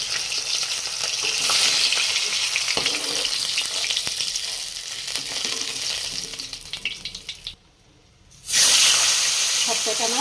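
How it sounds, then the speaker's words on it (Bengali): Pomfret fish frying in hot oil with a loud, steady broadband sizzle and crackle that drops to near silence for a moment, then surges back just as strong. "সবকটা মাছ এইভাবে করে ভেজে নেব।"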